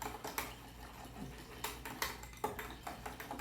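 Xanthan gum being stirred into fermented hot sauce, a utensil clinking and scraping against a container in a quiet, close series of light taps and scrapes.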